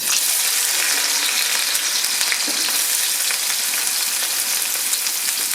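Chopped onion frying in mustard oil in a wok, producing a strong, steady sizzle and hiss that holds evenly from start to finish, close and loud, with no voices.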